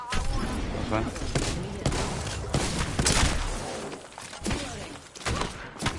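Gunfire in a shooter video game, several sharp bursts and thuds scattered across a busy mix, with someone talking excitedly over much of it.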